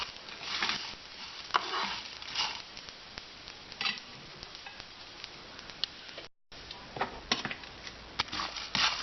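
Garam masala spices dry-frying on a slow flame while being stirred: a soft crackle and sizzle with scattered light scraping taps, fairly quiet and close, with one brief dropout.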